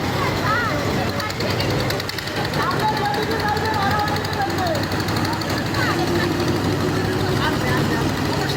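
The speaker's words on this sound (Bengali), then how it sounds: "আমরা ট্রলার ছেড়ে দিয়েছি" A steady, droning trawler boat engine runs continuously at close range, with people talking and calling out over it.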